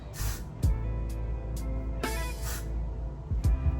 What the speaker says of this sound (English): I'm gonna have to like spray this into place.